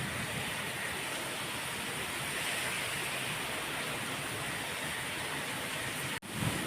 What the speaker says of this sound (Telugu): చాలా పెద్ద వర్షం అయితే పడుతుంది ఈరోజు